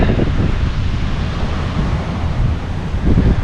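Surf washes onto the beach at Karon, Phuket, a loud, continuous roar of breaking waves mixed with heavy wind buffeting the microphone, swelling again near the end.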